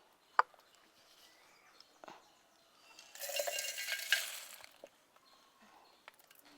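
Whole garam masala spices are tipped into a mixer grinder jar, giving a quiet rattling pour of about a second, with scattered light clicks and taps before and after.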